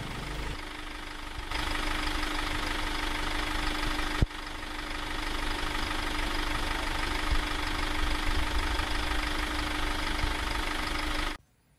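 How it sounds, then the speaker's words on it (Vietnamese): A Kia K2000S 4WD engine idles steadily during a coolant refill, a constant close mechanical hum and rattle with one sharp knock partway through, running alone until it cuts off at the end. "Và sau đó là sẽ tiến hành nổ máy để châm thêm nước làm mát nha các bạn."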